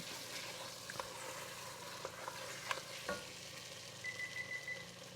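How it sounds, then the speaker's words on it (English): Tomato sauce for penne alla vodka stirred in a pot over the stove, a quiet bubbling simmer with a few soft spoon taps and scrapes against the pot, faint and close, no talking. "So we're going to stir it to incorporate it, and then we're going to turn the heat down to medium"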